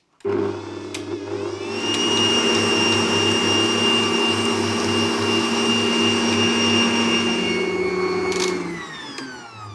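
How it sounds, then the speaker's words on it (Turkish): An electric mixer beats sugar and eggs for a pumpkin cake batter, giving a steady, loud whirring motor hum that starts abruptly, holds for several seconds and winds down at the end. "İlk növbədə şəkər tozu ilə yumurtanı 5-6 dəqiqə qarışdırırıq"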